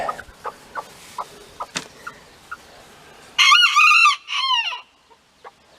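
Hens and chickens at a nest area with a broody hen, soft intermittent clucks spaced through the scene, then a louder burst of squawking calls from a nearby bird.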